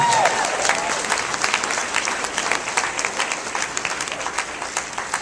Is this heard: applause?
yes